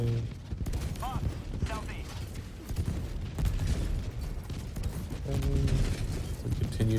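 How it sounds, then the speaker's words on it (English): Gunfire in Helldivers 2 aimed at rocket devastators, a dense, continuous clatter of shots and combat noise with voices talking over it. "continue just firing off shots here at these rocket devastators"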